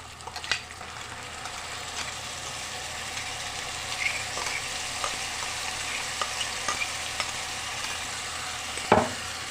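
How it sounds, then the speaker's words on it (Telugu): A paste of green chillies, coriander, curry leaves and cumin frying with potatoes in a pan, a steady soft sizzle with occasional faint scrapes of stirring and one louder clank near the end. "యాడ్ చేసుకొని ఇది పచ్చివాసన పోయేదాకా ఫ్రై చేసుకున్నామండి"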